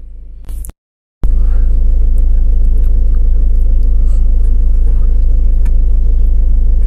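A car drives along a road, heard from inside as a loud, constant low rumble. The engine drone comes after a brief burst and a moment of silence at the start.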